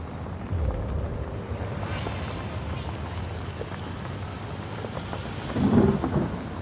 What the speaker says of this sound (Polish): Renia, najlepsze co będzie mogła zrobić w tym momencie, to rzucić deszcz.